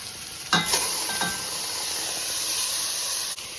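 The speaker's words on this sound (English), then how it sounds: "Now let's add the split peas into the split pea soup." Split peas pour into a pot of split pea soup, a brief rattling rush of dry legumes at first, then a steady hiss and simmer that carries on alone.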